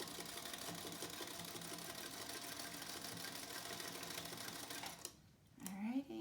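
A sewing machine with black on it runs steadily, stitching a fabric face mask for healthcare workers, then stops briefly near the end before a short burst of handling.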